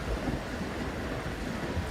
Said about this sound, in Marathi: मुंबईला मुसळधार पावसाने झोडपून काढलेलं आहे